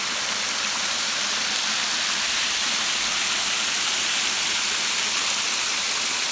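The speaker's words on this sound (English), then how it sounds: "it looks like it's a small waterfall over there" Small waterfall at the Laurel Fork Shelter water source on a winter Appalachian Trail hike, a steady, close rushing roar of falling water with bright hiss that holds evenly throughout, no voices.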